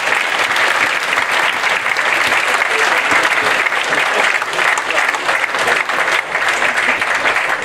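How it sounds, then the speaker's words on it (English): Loud, sustained applause from a large crowd at an awards evening, dense and continuous for several seconds without letting up. "give them a round of applause ladies and gentlemen"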